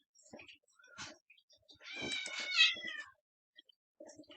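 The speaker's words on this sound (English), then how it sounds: "you can hear my cat in the background" A cat meows several times, with one long drawn-out yowl in the middle, close by and fairly clear against a quiet room.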